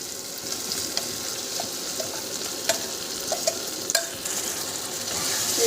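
Mushrooms being stirred into fried capsicum and onion in a pan, giving a continuous soft sizzle with scattered scraping and tapping of a spatula.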